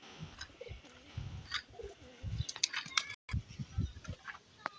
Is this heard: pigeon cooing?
yes